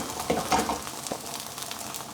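Jianbing, a Chinese street-food crepe, sizzling on a hot griddle right after being flipped, a soft crackling fry with a few brief louder spatters, close and without talking.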